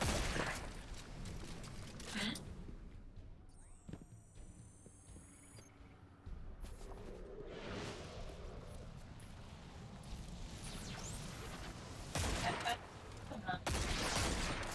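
Gunfire rattles through a Destiny 2 firefight, repeated bursts and sharp shots at varying distances scattered across the stretch, with quieter gaps between volleys and a low hum underneath.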